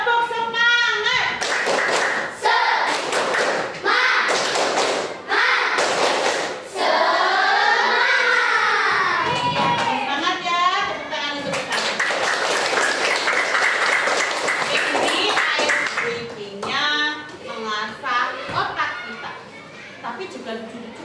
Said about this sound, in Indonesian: boleh kita tepuk semangat dulu